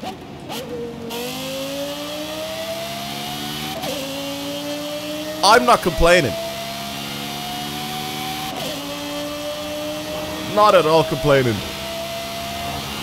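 A video game trophy truck with a swapped engine drones steadily at a constant pitch throughout, with two brief loud bursts of rising and falling revs; someone talks over it in places.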